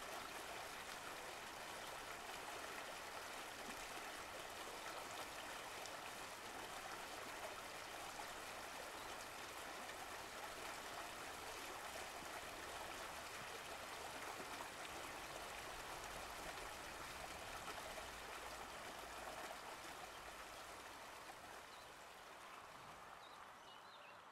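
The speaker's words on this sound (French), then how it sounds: "Les cascades qui coulent, ces sons doux" Steady, dense rush of flowing water from a waterfall or cascade, continuous and evenly loud throughout with no voices.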